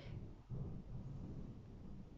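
Low, muffled thunder from a summer-like storm rolls in a deep sustained rumble, faint and distant, with a slight swell about halfway through.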